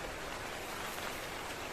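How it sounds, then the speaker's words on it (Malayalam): Heavy rain pours in a steady, dense hiss, fairly faint and constant with no voices over it. "അയ്യോ പെരുമഴ."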